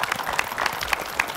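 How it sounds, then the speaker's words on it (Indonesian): Applause from a studio audience during an Indonesian talk show segment about plus-size fashion design: dense, steady clapping throughout the short moment, with no voices over it. "Tepuk tangan dong buat Mbak In."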